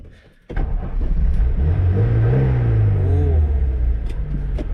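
An old Soviet car engine starts abruptly and settles into a loud, rough idle with a rising and falling rev, close by.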